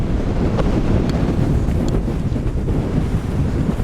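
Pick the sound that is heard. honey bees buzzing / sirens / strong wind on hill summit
strong wind on hill summit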